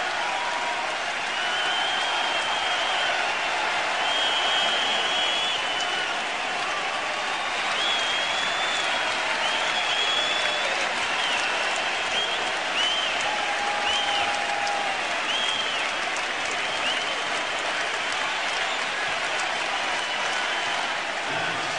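An arena crowd in Philadelphia applauds and cheers Michael Jordan at his final NBA game, a dense, steady wall of clapping and shouting that holds loud and unbroken throughout.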